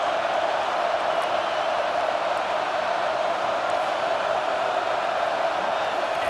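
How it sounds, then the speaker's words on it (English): Stadium crowd noise in the video game EA Sports College Football 25, a steady, broad roar of cheering fans rising in the red zone, sustained and even throughout with no distinct breaks. "Now the crowd responding in the red zone"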